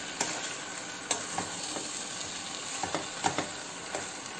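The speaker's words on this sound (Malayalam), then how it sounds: "ഇനി നമുക്കത് തുറന്ന് നോക്കി ഇത് ഈ തേങ്ങ എല്ലാം ഇതിനകത്തേക്ക് നന്നായിട്ട് മിക്സ് ചെയ്യാം." Grated coconut being stirred into aviyal in a pot, with soft scraping strokes and a faint sizzle repeating at a slow, irregular rhythm, close and quiet.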